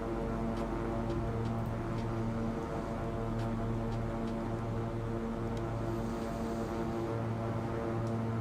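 Twin turboprop engines of a King Air 350 drone steadily in X-Plane 11 during a climb, a loud continuous hum with layered tonal lines and faint periodic ticks throughout.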